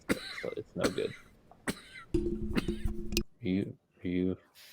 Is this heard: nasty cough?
yes